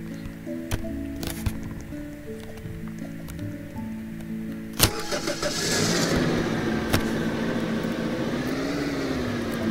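A car engine in a video game cranks and turns over, then settles into a steady mid-pitched running hum, with game music and effects layered underneath.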